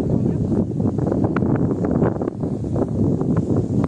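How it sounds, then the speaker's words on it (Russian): Strong wind at a lake buffets the microphone in a steady, rumbling roar, with brief voices under it. "О, какой ветер."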